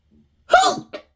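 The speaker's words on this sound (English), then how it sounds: "hold on, because I got this sneeze" A single sharp sneeze with a quick intake of breath and a short trailing exhale, close and loud against silence.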